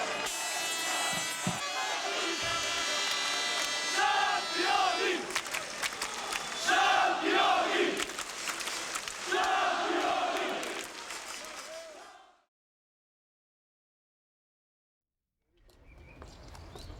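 A stadium crowd of nearly 10,000 at a Maribor football derby cheers and roars loudly and continuously for about twelve seconds, with rising swells and shouts, then cuts to silence before a brief return.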